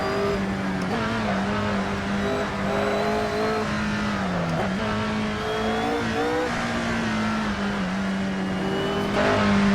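McLaren Senna, Bugatti Divo or Ferrari SF90 Stradale supercar engine screaming at high revs around the Nurburgring, loud and continuous for ten seconds, with rising and falling pitch as the driver shifts gears, heard from inside the car.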